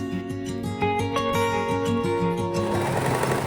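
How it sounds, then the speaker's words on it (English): Sewing machine stitching along a folded knit cardigan strap, running steadily at close range with a rapid mechanical whir and fine needle patter, no voices present. "Make sure you don't sew over the thread tail that's inside the strap."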